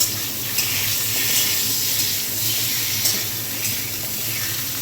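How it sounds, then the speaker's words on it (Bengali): Steady sizzle of pumpkin slices frying in hot oil, with occasional scraping knocks of a utensil stirring the pan; no one speaks. "কুমড়োগুলো ছেড়ে দিয়েছি, এবার একটু নেড়ে দেবো"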